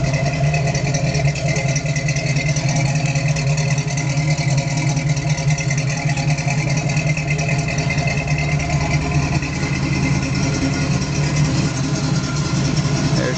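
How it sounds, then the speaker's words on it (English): A car engine idles steadily with the hood open, a smooth, even low rumble with light mechanical clatter running continuously and close by, no talk over it. "Nice solid engine."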